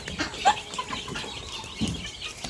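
Chickens with young chicks at a farmyard in Savannakhet, Laos, clucking softly in short, scattered calls at close range, with low background noise and no talk.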